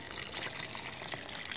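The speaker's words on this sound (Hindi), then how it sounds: "इसमें पानी डाल लेंगे और इसको मिक्स कर लेंगे।" Water pours and splashes into a sand and cement mix being prepared for a homemade hanging planter pot, a close, continuous trickling gush with small bubbly spatters and no talking.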